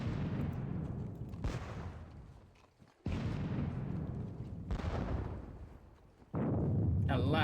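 Cannon fire in a Napoleonic wargame battle at Valmy: several heavy booming shots a few seconds apart, each followed by a rumbling decay, with a sharper crack at the close.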